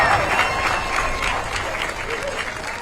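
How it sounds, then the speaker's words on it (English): A large outdoor crowd at a Memorial Day Parade claps and cheers in a continuous, loud wash of applause, with crowd noise running throughout. "Big applause."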